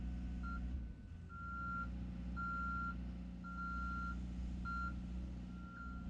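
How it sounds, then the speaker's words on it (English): A JLG 1500SJ boom lift runs with a steady low engine drone while retracting and lowering its boom, and a regular alarm beeps over it about five times at an even pace. "Retract and lower the jib boom."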